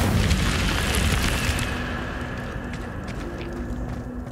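A fiery burst from the Incendio spell in Hogwarts Legacy roars in loud and broad, then eases into a steady crackling rush that slowly fades.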